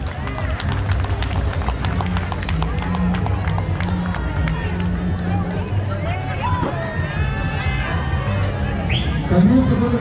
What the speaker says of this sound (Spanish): A quien pedimos un fuerte caluroso aplauso al profe Álvaro Hernández Quesada